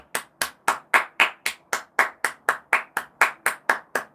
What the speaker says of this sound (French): je leur fais un applaudissement maintenant comme s'il était 20h